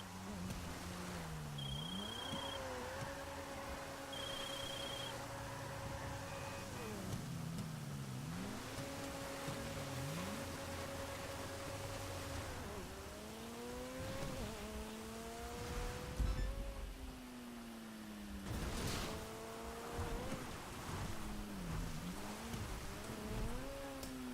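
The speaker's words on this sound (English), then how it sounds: "And that is one awesome trophy truck." A trophy truck engine in the video game GTA V revs up and down repeatedly, its pitch climbing and dropping through gear shifts as it drives. Rough bumps and road noise sound beneath it.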